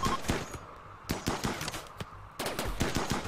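Rapid gunfire from a Rimworld tribal raid battle, repeated sharp shots and short bursts of automatic fire in uneven rhythm, loud and close, no voices.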